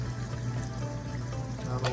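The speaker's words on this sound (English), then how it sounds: "And then a little bit of water." Water is poured into a wok of Thai green curry chicken with coconut milk, a steady close pouring and sizzling wash that runs the whole time with a slight surge near the end.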